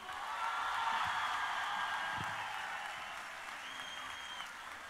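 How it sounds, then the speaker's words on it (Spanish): A festival crowd at the 47th Festival Nacional del Folklore in San Bernardo applauds for Juan Gabriel: dense, loud, sustained clapping that fills the whole stretch and eases slightly toward the end, with no voices over it. "Un gran aplauso para el señor Juan Gabriel."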